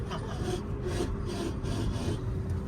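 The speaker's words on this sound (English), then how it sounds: "Something is just grinding itself." A Tesla Model 3 Performance with a mechanical fault gives off a continuous rough grinding and rasping, steady and fairly close, with periodic swells of the scraping, heard alone.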